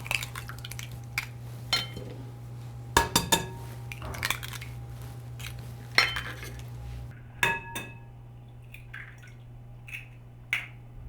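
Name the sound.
cracking eggs into a bowl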